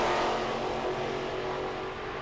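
A top alcohol funny car roars off the line at a 1995 drag race at Santa Pod, a loud, raw engine scream sustained and slowly fading as it pulls away.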